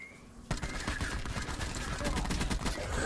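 Rapid automatic gunfire in a video game erupts after a short quiet moment and continues as a loud, dense stream of shots to the end.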